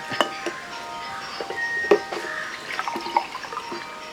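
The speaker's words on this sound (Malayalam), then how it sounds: "ഞാനിപ്പോൾ രണ്ട് ഗ്ലാസ് വെള്ളം അങ്ങോട്ട് ഒഴിക്കുകയാണ്" Water poured into a blender jar holding mashed banana for a breakfast drink: a steady, close trickling splash with a few sharper clinks and drips, no voices.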